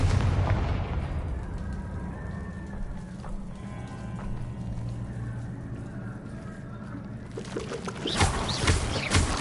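The Confringo fire spell in the video game Hogwarts Legacy goes off as booming, rumbling blasts with crackling bursts, continuous and fairly loud, swelling again near the end.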